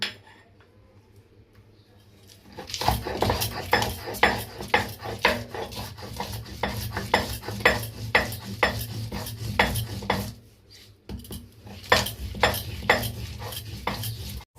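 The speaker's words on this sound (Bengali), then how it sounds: "এভাবে ডালের সাথে কাঁচা লঙ্কা আদাগুলো বেটে নিলাম" Lentil paste ground with ginger and green chillies for a vegetarian raw-banana kofta makes loud, rhythmic rasping and scraping strokes, repeated steadily after a quiet start, with one short pause before the strokes resume.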